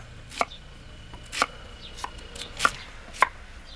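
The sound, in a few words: sweet potatoes being chopped on a cutting board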